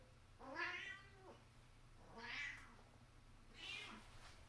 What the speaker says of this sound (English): please ignore the cat